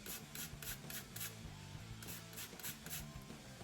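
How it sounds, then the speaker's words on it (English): A lemon is zested on a grater in a quiet kitchen, giving a soft rhythmic rasp of short repeated strokes, about ten scrapes in a steady back-and-forth pattern, close and faint. "I'm gonna put in a zest of about, maybe a half of a lemon."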